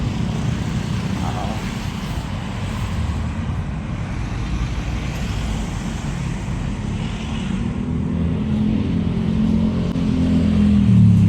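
Busy road in Silang with jeepneys, motorcycles and tricycles passing by, a continuous traffic rumble swelling toward the end as a vehicle draws near, heard from the roadside while walking.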